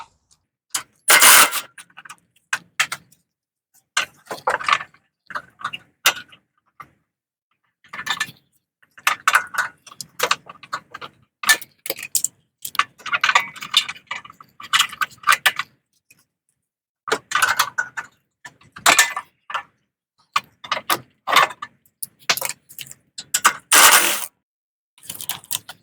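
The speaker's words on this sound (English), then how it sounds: "we're going to remove the carburetor all the way off," Bolts being removed from the carburetor of a Cub Cadet snow blower: irregular bursts of metallic clicking, ratcheting and clinking of a tool on the engine, close and loud, with pauses between bursts and no talking.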